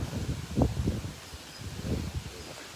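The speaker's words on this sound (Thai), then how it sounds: "ลมอาจจะแรงหน่อยนะคะ" Strong wind gusting outdoors at a temple visit in Thailand, a broad steady rushing roar buffeting the microphone with low rumbling bursts, loud and continuous with no clear speech.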